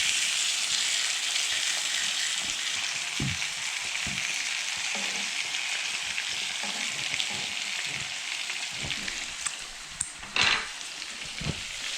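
Sweet potatoes and garlic fry in a pan with a steady, dense sizzle throughout, broken by a few soft stirring knocks and a brief louder clatter near the end as the pieces are turned.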